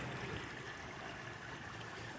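Creek water flows and trickles steadily as a woman bathes and bobs in it outdoors, a continuous close murmur of moving water with no voices.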